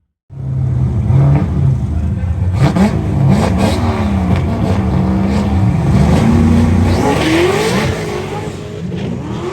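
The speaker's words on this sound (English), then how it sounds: "This is our first pass." Race car making a drag racing pass at a True Street event with a new Holley setup, its engine roaring loud and close as it revs and shifts through gears in a sustained, rising blast.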